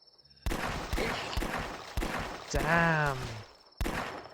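A .357 handgun in a zombie shooter video game fires about six sharp, punchy shots at uneven intervals, with a brief groan-like tonal sound between the last shots and a short spoken word.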